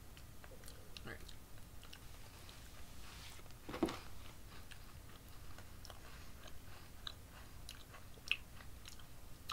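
Crunchy chocolate-covered butter cookies being bitten and chewed, heard as faint, irregular close crunches and clicks with a sharper snap near the middle, over a low background murmur.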